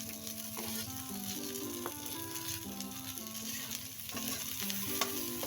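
Garlic and onion sauté in a pan for Bicol Express, a quiet steady sizzle with soft stirring under music.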